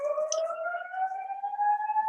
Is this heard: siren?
yes